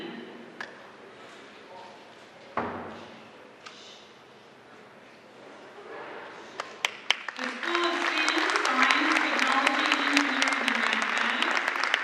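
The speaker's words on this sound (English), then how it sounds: "Please give them a round of applause" Audience applause at a school ribbon-cutting ceremony swells from scattered claps into sustained clapping by a seated crowd, with a voice over a sound system at the start.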